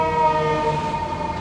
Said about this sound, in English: Here comes a fire truck.